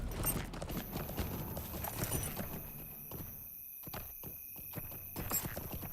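Horse hooves in Lord of the Rings Online as a rider sets out: steady clip-clop footfalls at a walking pace, close and fairly quiet, with a high tonal hum of ambient game sound beneath.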